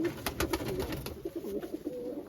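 Several domestic pigeons coo in a loft coop, low throaty calls repeating in an uneven rhythm close by, with a soft background hum and no talking.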